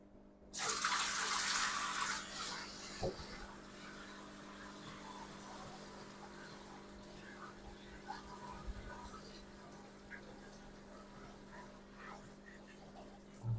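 A bucket of water is poured into a turtle box during cleaning: a loud rushing gush lasting about a second and a half, then faint dripping and quiet handling noises.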